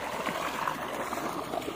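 Irrigation water runs steadily through a channel in a vegetable field, a continuous close trickling and gurgling flow with no voices over it.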